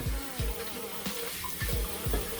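Tap water runs into a sink as kitchen equipment is washed, with a steady splashing flow and periodic low thumps and clanks of items being handled.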